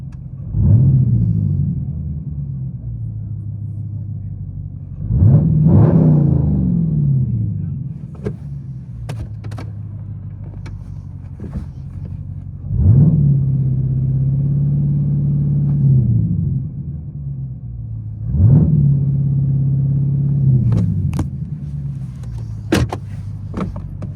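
A Dodge Challenger 392 Scat Pack with a 6.4L HEMI V8 and six-speed manual, heard from inside the cabin as a deep exhaust rumble that swells in four or five rev bursts and then settles back between them, with a voice talking over it.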